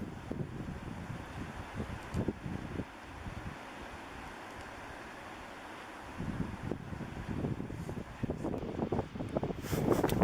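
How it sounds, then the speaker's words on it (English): Strong wind blowing outdoors during a cow elk hunt in New Mexico woods, gusty rushing buffeting the microphone in surges, easing in the middle and then building loud again toward the end, with no talking. "it's awfully windy"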